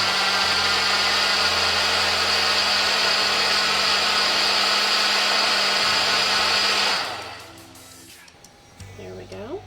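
A blender whirs loudly and steadily as it purées roasted butternut squash soup, then cuts off near the end and leaves quieter kitchen handling sounds.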